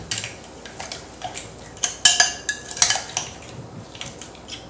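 Chicken being mixed with a salted marinade: irregular clinks and scrapes of a utensil against a bowl, close, with a few sharper metallic knocks in the middle and no talking.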